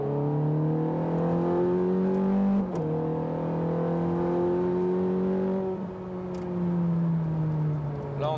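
A Ferrari F430 Scuderia engine revs hard and close, climbing in pitch twice with a sharp throttle blip and downshift between, loud and alone with no talk.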